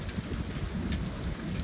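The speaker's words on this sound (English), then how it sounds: "Okay, so we got pea-sized hail." Small pea-sized hail and heavy rain pelting surfaces during a severe storm near a rotating wall cloud, a dense, continuous patter with scattered sharper ticks and a low rumble underneath.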